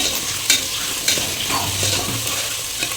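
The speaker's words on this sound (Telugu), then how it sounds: "ఉల్లిపాయ ముక్కలు పచ్చిమిరపకాయ ముక్కలు వేసుకోవాలి వేసుకుని ఒకసారి మూతపెట్టి మద్దించుకోవాలి" Onion and green chilli pieces cooking in a covered pan, giving a steady close sizzle with a few sharp clicks and soft rustles, no voices.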